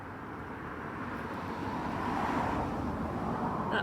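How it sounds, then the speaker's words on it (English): Steady broadband rumble of passing road traffic swells slightly as a vehicle approaches, continuous and fairly close, with no voices. "sorry for the noise, we're right on the road"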